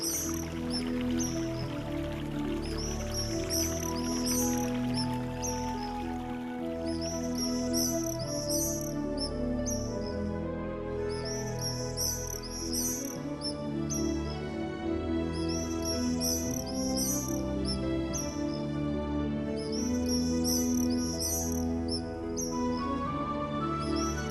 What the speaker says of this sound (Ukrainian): весело цвірінькаючи, з'явилися ластівки